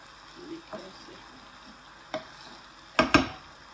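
An egg and eggplant mixture spread across a hot pan with a spoon gives a low sizzle, a few soft spoon scrapes and taps, and a sharp double clatter near the end.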